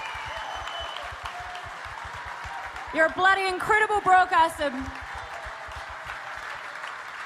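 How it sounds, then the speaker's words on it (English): An audience at the 2017 New Zealand Radio Awards claps in a steady, even patter throughout, while someone speaks over the applause in the middle. "So if we get a round of applause"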